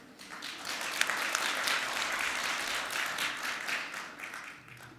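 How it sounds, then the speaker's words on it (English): A conference audience applauds steadily, a dense wash of clapping that swells quickly and then tapers off toward the end. "So can I get a massive round of applause for Richard?"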